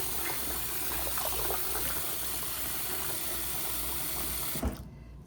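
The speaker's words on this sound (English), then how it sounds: "I'm stirring up the water to mix the shampoo and conditioner" Water with shampoo and conditioner swishes and churns steadily in a filled sink as it is stirred by hand, a continuous close wash of sloshing that cuts off abruptly near the end.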